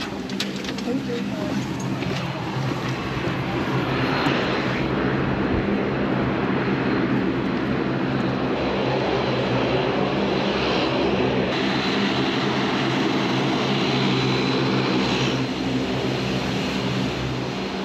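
Steady, loud drone of a Dash 8 turboprop airliner's engines heard from inside the cabin in flight, a continuous broadband roar with a low hum that holds evenly throughout.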